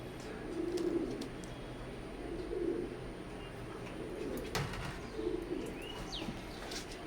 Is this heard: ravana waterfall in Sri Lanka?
no